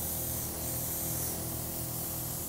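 Airbrush spraying red color onto a cake decorated with navy and a pink underspray, giving a steady, close hiss of air and paint that stays even and unbroken throughout, with no talking.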